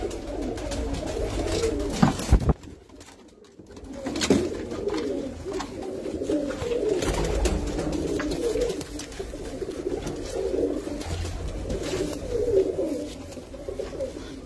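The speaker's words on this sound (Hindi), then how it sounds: "फ्योर 35 वाले कोडी वाले कबूतर हैं, और इंतहाई नायाब कबूतर हैं" Pigeons cooing steadily in a rooftop loft, a pair of prized fancy birds calling in soft repeated low coos, close by and continuous with no talk over them.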